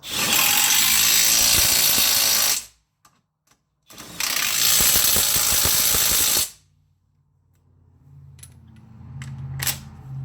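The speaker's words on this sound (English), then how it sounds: "Starting with the lower control arm bushing mounting bolts, we can go ahead and start tightening." Lower control arm bushing mounting bolts on a Dodge Grand Caravan being tightened with a power tool: two loud, sustained mechanical bursts close up, separated by a brief pause, followed by faint clicks and handling noise.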